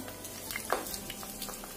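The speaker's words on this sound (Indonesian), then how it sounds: "Kemudian kita goreng sampai matang." Snacks fry in hot oil, with some water mixed in, over medium heat. A faint, steady sizzle carries scattered small pops and crackles, and no one talks.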